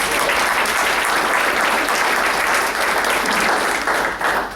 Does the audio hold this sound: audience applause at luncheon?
yes